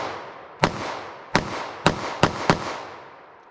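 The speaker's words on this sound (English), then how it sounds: "I'm just going to pull out and just kind of see where these rounds shoot for me first." Handgun rounds fired at a steady, slow pace on a shooting range, five sharp loud cracks spaced roughly half a second apart, each followed by a brief ringing decay, with no talking.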